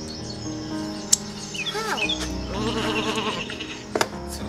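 Cartoon sheep bleat in the video game Isle of Ewe with a couple of short, wavering calls midway. They sit over steady background music, with brief chirpy effects and clicks around them.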